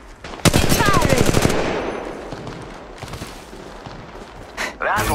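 A loud, fast automatic burst from a weapon in Apex Legends Mobile, followed by scattered shots and quieter battle noise, with a voice speaking over the action.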